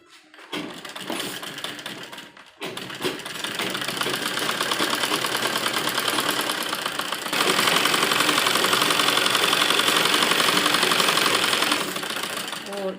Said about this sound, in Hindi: अब हम सिलाई करेंगे।